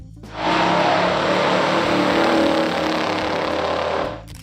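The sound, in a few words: 1970 Chevrolet Chevelle SS 454 muscle car engine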